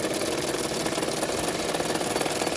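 A sewing machine stitching a second line of stitches along a blouse seam, steady fast mechanical whirring and rapid needle clatter, close and continuous with no talk.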